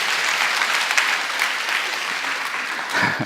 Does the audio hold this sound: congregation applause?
yes